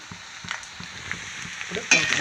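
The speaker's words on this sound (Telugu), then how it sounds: "పోపులు బాగా వేగాలండి, ఎందుకంటే అల్లం వెల్లుల్లి వేసాం కదా" Bottle gourd pieces frying in a tempering of ginger and garlic, a soft close sizzle with light scraping stirs at intervals and a louder burst of spitting near the end.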